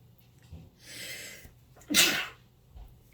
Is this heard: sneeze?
yes